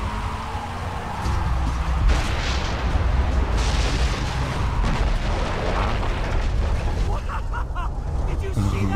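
Grenade launcher explosions thunder in the video game Far Cry 3, a loud, nearly unbroken stretch of booming blasts and gunfire-like bursts, with a player's voice faintly mixed in.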